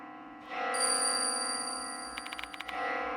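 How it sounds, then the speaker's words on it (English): A bell rings in the horror video game Death Mark II: a sustained high, clear tone rings alone, then a quick series of sharp, bright strikes follows near the end. "Where's this bell sound coming from?"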